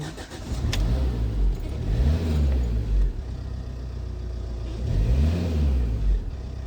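A 2011 Ford Transit Connect van after an accelerator pedal replacement starts, then its engine revs up in two rising and falling surges over a steady idle, loud and close.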